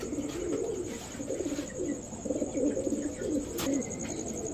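Pigeons coo softly and continuously nearby, low burbling calls overlapping in a steady murmur with a faint high hum behind.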